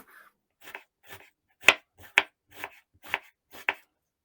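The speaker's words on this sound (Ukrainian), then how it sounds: "Цибулю нарізаю на маленькі шматочки кубиками" A knife chops an onion into small cubes on a cutting board, about nine crisp evenly spaced strikes, close and clear with nothing else audible.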